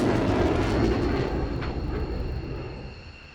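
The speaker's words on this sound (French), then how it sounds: "After this show force fly pass" A Dassault Rafale jet makes a fast, low show-of-force flypast at an air display, a loud broadband roar that peaks early and then fades steadily as the aircraft passes.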